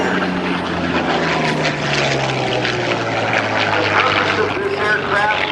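A Yak 1, 3 or 9 series propeller fighter flies past at an air show at Langley AFB, with a loud, sustained propeller engine drone and a slowly falling pitch as it passes, while an announcer talks over it.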